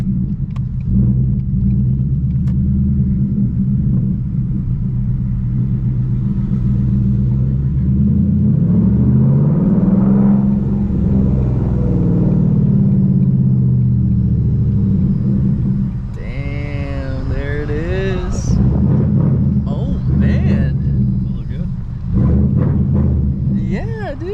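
A Ford Mustang Mach 1 rumbles low and steady as it pulls into a Maaco parking lot, its engine droning throughout while people talk inside.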